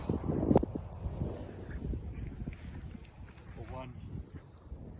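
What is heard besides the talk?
wind blowing on a golf course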